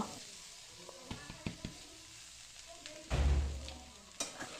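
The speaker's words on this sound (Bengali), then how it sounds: "দিয়ে ভালো করে নেড়ে চেড়ে সবজির সাথে চিড়েটাকে ভালো করে মিশিয়ে ভাজা ভাজা করে নেব" Flattened rice stir-fried with vegetables in a pan, with a soft sizzle, a few sharp spatula taps and a louder burst of scraping and frying near the end.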